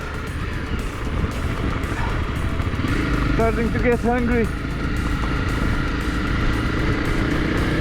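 Rented motorcycles riding offroad trails in Morocco, a steady loud engine drone and wind rush filling the whole stretch, with a person talking briefly over it midway.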